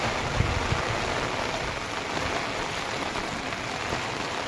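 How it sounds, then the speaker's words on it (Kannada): Heavy rain pours without a break on a forest path on the way to Bheemeshwara Falls, a loud, dense and even hiss with no voices. "ಸ್ನೇಹಿತರೆ, ಸಿಕ್ಕಾಪಟ್ಟೆ ಮಳೆ ಬರ್ತಾ ಇದೆ."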